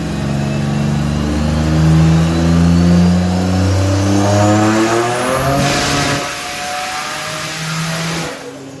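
A Buick Grand National's engine revs hard on a dyno, a loud rising and falling roar with climbing harmonics, a sharp peak and drop midway, then a lower steadier run before it trails off.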